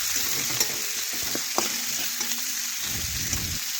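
Chopped onions and a bay leaf fry in hot oil with a steady, close hiss, while a spoon stirs them with occasional light scrapes and taps; no one speaks.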